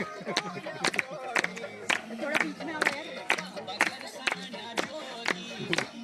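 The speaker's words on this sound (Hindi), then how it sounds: "हाँ ताली तो बजा दो भाई।" Members of an audience clap their hands at a Patanjali wellness retreat, giving about a dozen distinct, fairly regular claps from a small group close by. Voices chatter faintly between the claps.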